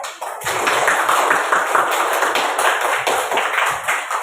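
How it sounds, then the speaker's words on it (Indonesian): Children in a classroom clap together after a brief quiet start, a lively stretch of overlapping hand claps that stays fairly loud and steady, with a faint ringing tone in the background. "Tepuk tangan."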